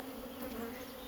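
Honey bees flying in the air around an open hive, a steady, faint buzzing drone with no break, with no voices.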